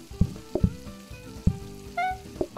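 Steak sizzling on a stove in the cooking video game PlateUp, a soft frying hiss broken by several thudding game clicks and a short rising chime, fairly quiet with no speech.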